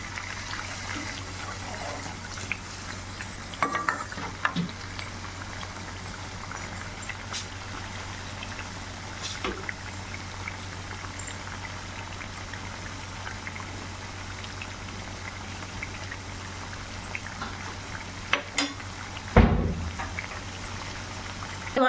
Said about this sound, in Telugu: ఇలా తిప్పేసిన తర్వాత అన్నీ బాగా వేగాలండి, ఎర్రగా రావాలి